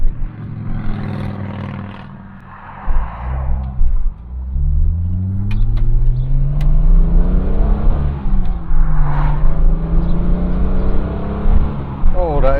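A Triumph 2500 six-cylinder car on a New Zealand road revs and accelerates, its engine pitch climbing through gears in smooth rising sweeps, loud and close from inside the cabin, with voices talking over it.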